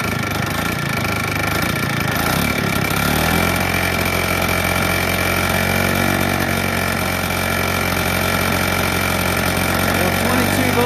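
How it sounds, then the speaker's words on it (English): A WW2-era PE-210 generator engine runs at no load, a steady close mechanical drone with a rapid low chugging pulse. The engine settles into an even rhythm after a brief rougher start. "the solenoid is kind of going up and down as the generator generates electricity"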